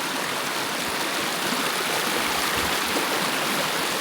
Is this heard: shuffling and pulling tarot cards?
no